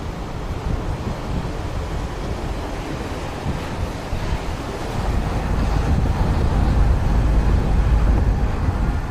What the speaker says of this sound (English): now I've come to the beach in Makhachkala